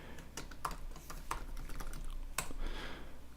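Rapid keystrokes on a computer keyboard while coding a Ruby on Rails app, a quick irregular run of clicks with a few sharper key hits, close and clear with no talking.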